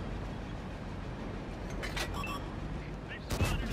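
A tank cannon shot fired at an enemy Panzer in a tank video game, a brief loud burst near the end over steady in-game noise, with a talking voice throughout.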